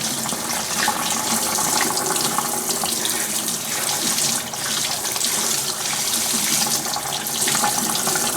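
Tap water runs steadily as a disc golf disc dyed with turmeric is rinsed under it, a loud, continuous splashing stream with no talking.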